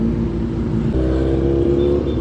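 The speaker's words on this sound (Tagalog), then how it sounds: "Ay, traffic." Road traffic with cars and motorcycles, heard as a steady close engine drone with a shift in pitch partway through, no talking.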